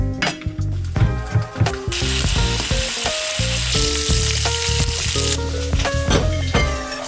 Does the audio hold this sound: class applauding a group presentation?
no